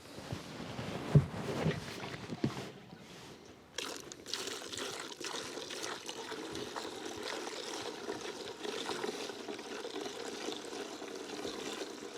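Old fuel from an F600 truck pours through a coffee filter set in a funnel, making a soft, continuous trickle heard at close range. A few quiet handling bumps come before the pour begins.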